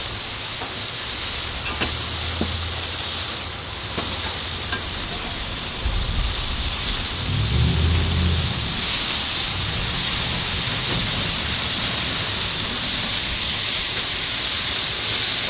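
Bell peppers sizzle on a flat griddle after being flipped, making a loud, continuous hiss of steam. Low scraping rumbles come midway and a brief metallic tap sounds early.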